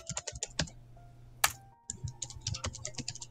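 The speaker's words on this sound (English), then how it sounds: "That enthusiastic enter keyboard slam, I heard that." Computer keyboard typing in quick bursts, with one loud, sharp slam of the enter key standing out in the middle, close and alone without talk.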